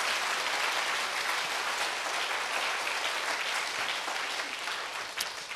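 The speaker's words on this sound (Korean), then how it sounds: "박수로 주님께 영광 드립니다" Sustained applause from a church congregation during a Sunday worship service, a dense, steady wash of clapping from many hands that carries on for several seconds and thins slightly toward the end.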